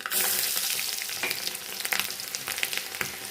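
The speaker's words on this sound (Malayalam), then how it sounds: "ഇതിലേക്ക് കടുക് ഇട്ട് കൊടുക്കാം കൂടെ തന്നെ ഒരു പത്ത് ചെറിയ ഉള്ളി ഇട്ട് കൊടുക്കാം" Mustard seeds and small shallots sizzle in hot coconut oil, a steady close hiss dotted with crackles and pops that grow busier toward the end.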